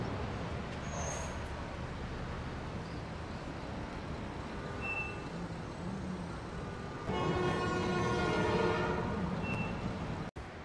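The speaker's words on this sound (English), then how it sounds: "The next train is arriving in 5 minutes. Please stand clear of the approaching train." A subway train arrives at an underground station in the video game Marvel's Spider-Man: a steady rumble of rail noise with a short horn toot early on, then a louder, brighter screeching surge of the approaching train.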